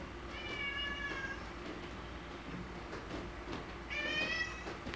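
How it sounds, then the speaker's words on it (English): A cat meows twice, near and clear, once at the start and again near the end, over a low steady background rumble with no talk. "It's my cat."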